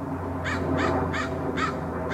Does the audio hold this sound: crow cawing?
yes